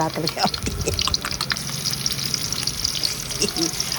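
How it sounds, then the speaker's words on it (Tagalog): Garlic sautéing in a pan for sopas with corned beef, a continuous close sizzle and frying crackle with some stirring and watery splashes, a voice faintly present in the background. "Ginisa ko na yung bawang"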